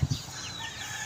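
Backyard chickens clucking, two short close bursts at the start, then low hubbub with a faint high hiss.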